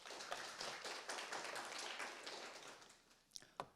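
Scattered clapping from an audience at a statistics data forum as a presenter is welcomed, fairly faint and uneven with a few sharper individual claps near the end.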